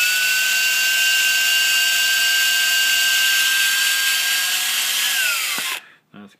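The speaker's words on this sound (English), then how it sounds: "The centrifugal force will keep it tight as you spin your drill motor there." A steady, high-pitched whine of a drill motor spinning a Lee case trimmer on brass cartridge cases, running continuously close by, then winding down and stopping with a few soft clicks.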